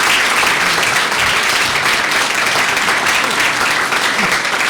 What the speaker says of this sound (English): let's give them all a round of applause for their hard work, right?